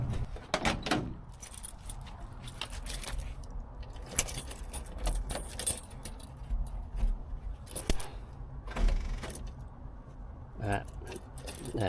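Metal keys jingle and clink in short bursts while someone searches for them in a garage, working under a 1971 Datsun 521 to fix an oil pan gasket leak. The rattles are close and intermittent over a steady background hum.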